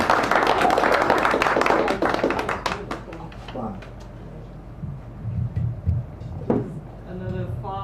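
Warm applause from a small audience at a San Francisco poetry café greets a poet, loud and dense for about three seconds before thinning into scattered claps, followed by a quieter stretch with low room sounds and a voice.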